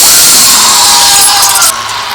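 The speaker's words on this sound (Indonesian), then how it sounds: "Adegan awal penyiksaan Josh dimulai dengan mengebor bagian tubuh Josh." A loud, continuous high-pitched power drill whines as it bores into a body in a horror film torture scene, steady for most of the moment before dropping to a lower pitch near the end.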